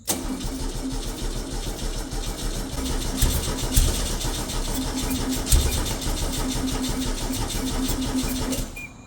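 A small engine with a fuel leak cranks steadily on its starter, a continuous loud mechanical whirring drone with a few heavier thumps, close and without voices.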